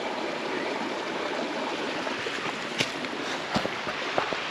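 A river rushes steadily along its bank, a dense, even wash of flowing water heard up close, with a few faint clicks and knocks over the top.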